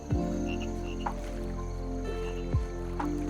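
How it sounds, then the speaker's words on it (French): Frogs croak in the video game Call of Duty Zombies, low throaty croaks repeating at intervals over a steady droning game ambience, with no talk. "Justement là où on entendait les cris des grenouilles."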